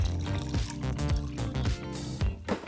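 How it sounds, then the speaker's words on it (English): Boiled hot water poured onto sugar, a steady splashing, gurgling pour heard up close and continuing throughout. "So I've got a cup of hot water here that I had boiled, and we're just going to throw that in too."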